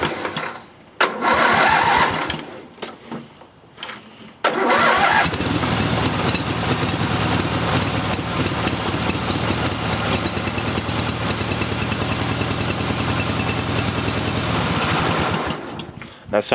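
A Roper racer engine starts up and runs rough and lean, sputtering through a few false starts before settling into a loud, continuous uneven rattle close by.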